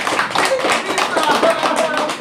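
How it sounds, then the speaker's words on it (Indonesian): Many hands of a church congregation clapping together in a steady, dense patter, with voices talking or singing over it throughout. "tepuk tangan buat Tuhan"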